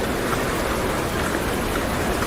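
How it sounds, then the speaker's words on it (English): Heavy rain pours outside in a steady, dense hiss that stays even and loud throughout, with no distinct drops, breaks or voices. "Oh yeah, it's pouring rain outside."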